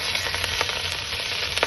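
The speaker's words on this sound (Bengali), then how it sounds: "আমার 2 মিনিট ভাজা হয়ে গেছে।" Chopped onion and bay leaf fry in a little oil in a pan, giving a steady close sizzle with soft crackles and a few brief stirring scrapes throughout, and no voice.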